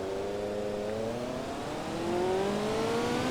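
A car engine in a video game revs hard at full throttle, a steady, loud whining drone with rising harmonics as it pulls toward top speed, running continuously with no talk.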